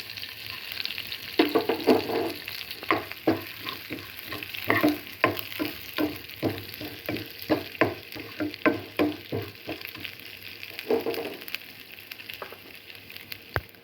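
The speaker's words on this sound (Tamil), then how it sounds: "இப்போ சீரகத்தையும் கடுகையும் இது ஈரகமும் மிளகையும் போட்டு பொரிச்சுக்கணும்" Cumin, mustard seeds and black pepper fry and pop in hot sesame oil in a pan, with a steady close sizzle and a run of sharp crackles and stirring scrapes, no voices.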